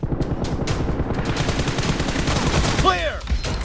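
Rapid bursts of gunfire from a team-based video game shooter match ring out continuously over busy game sound effects, with a sharp whooshing streak near the end; an announcer-style voice calls out in the background.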